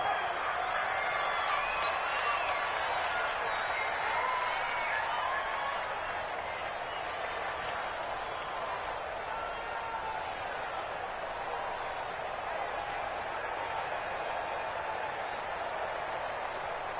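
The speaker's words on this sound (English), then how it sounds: "the crowd getting into it as we come up on a big 3rd down" Stadium crowd noise in a PS4 American football video game, a steady broad roar of cheering fans swelling slightly early then holding level for the whole stretch, with no commentary over it.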